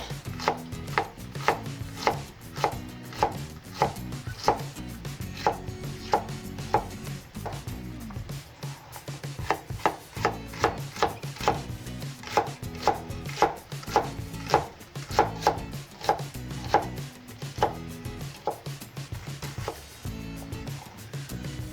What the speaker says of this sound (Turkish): Patateslerimiz kızartırken soğanlarımızı piyaz şeklinde doğrayıp hazırlayalım. İnce ince doğruyoruz.